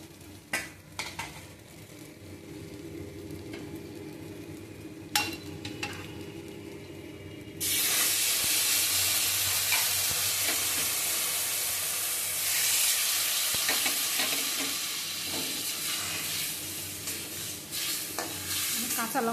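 Water poured into a hot pan where eggs fry in oil turns the quiet, slow cooking into a sudden loud, broad sizzle that holds steady and close for the rest of the clip, with faint stirring clinks before it.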